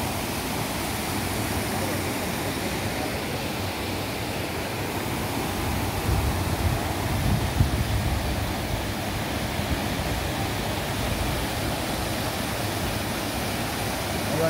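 Water gushing from a broken canal pipe makes a loud, continuous roaring rush close by, steady for the whole stretch with no break.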